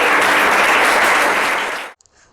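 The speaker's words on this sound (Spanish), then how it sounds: "¿puedes darle un aplauso al Señor?" A church congregation breaks into loud, dense applause that fills the space for nearly two seconds, then cuts off abruptly into near silence with a couple of faint clicks.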